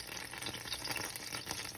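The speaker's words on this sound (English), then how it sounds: "our fat from the gravy has melted and is sizzling" Steady, soft crackling and sizzling of fat melted from leftover gravy frying in a pan, even and continuous, with no talking.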